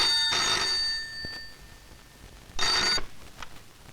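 Two bursts of an old-style telephone bell ringing, sharp and ringing against a quiet room, from a Hindi action-horror film, with a pause between rings.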